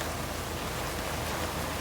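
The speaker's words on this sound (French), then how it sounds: "De l'orage, énormément de pluie et du vent. Et on entend tout ça." Dense, steady rush of heavy rain with a low wind rumble underneath during a thunderstorm on a boat at anchor off Elba, continuous and close throughout.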